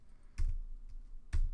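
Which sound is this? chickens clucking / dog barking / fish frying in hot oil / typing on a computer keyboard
typing on a computer keyboard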